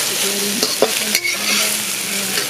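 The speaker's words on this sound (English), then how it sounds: "So I'm going to put a bit green onion onto it and keep folding it." A stir-fried dish with green onion sizzles loudly in a pan while being folded, with several sharp spatula scrapes and clacks over the constant frying hiss.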